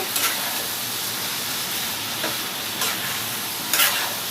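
Ridge gourd fries in a pan, a loud constant sizzle with a few brief scraping stirs of a spatula standing out, no talk.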